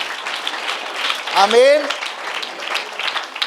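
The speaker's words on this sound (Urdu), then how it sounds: "اس پر بھی ہم نے تالی بجائی ہے" A church audience applauds during a sermon with a soft, continuous patter of clapping throughout, while a single voice calls out briefly over it in the middle.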